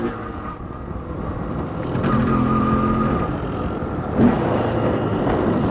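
MZ ETZ 250 or 251 two-stroke motorcycle engine running close by, a buzzy rattling idle that swells briefly as the throttle opens, with a short blip near the end.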